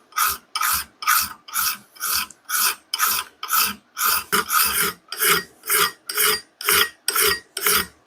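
A file rasps across the bevel of a Norland axe head in steady, even back-and-forth strokes, about two per second, loud and close with no talking.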